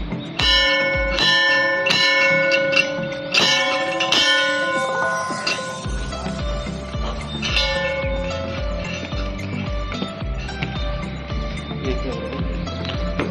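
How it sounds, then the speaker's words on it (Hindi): A temple bell rings repeatedly at an old Banaras shrine, bright metallic strikes overlapping in a rhythmic series, then continuing under a deeper pulsing tone, fairly close and clear with no speech. "घंटी बजा देता है"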